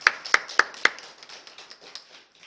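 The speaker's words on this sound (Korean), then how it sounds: "일어나서 우리 박수로 환영합시다." A small church congregation welcomes guests with a few sharp, close claps that thin into light scattered clapping and soon die away.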